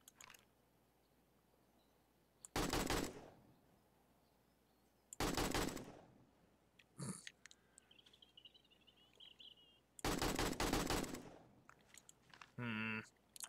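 Gunshots from a gun in the survival game 7 Days to Die, four loud separate bursts spaced a few seconds apart over a quiet background, with faint bird calls in between.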